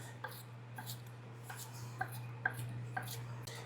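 A knife dicing a medium onion on a cutting board, with light, evenly spaced chops about twice a second over a steady low hum.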